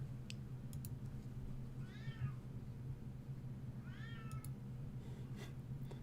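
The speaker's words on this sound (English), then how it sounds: "As the cat is meowing in the background." A cat meows twice in the background, each a brief, faint call about two seconds apart, over a steady low hum with a few light clicks.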